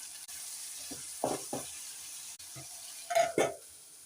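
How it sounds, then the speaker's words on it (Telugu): Tamarind, peanuts, chana dal, salt and turmeric sizzle faintly in a hot pan, a soft steady fry with a few brief louder crackles and stirring scrapes. "ఒక 2 మినిట్స్ ఫ్రై అవ్వనివ్వాలండి."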